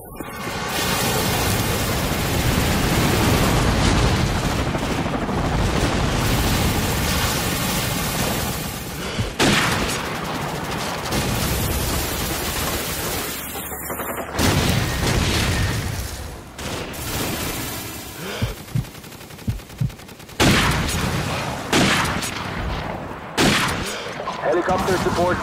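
Airstrike explosions and gunfire rumble across a video game battlefield, with dense, sustained bursts and heavy booms filling the scene, broken by brief drops and sharp crashes, while voices talk over the din.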